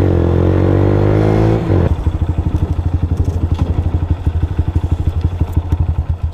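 A motorbike passes on a road, a smooth engine drone giving way to a loud, close, rapid pulsing exhaust thump as it goes by and pulls away.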